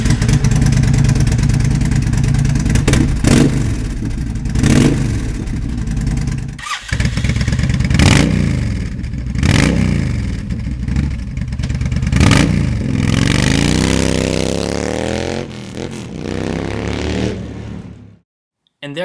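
A motorcycle fitted with a Cobra Speedster full system exhaust revs loudly and repeatedly, deep throttle blips rising and falling between rumbling idle, close by, before the engine is shut off near the end.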